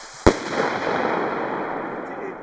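A badly launched firework rocket from a Biedronka shop set goes off low with one sharp, loud crack, followed by a sustained crackling, hissing wash that slowly fades.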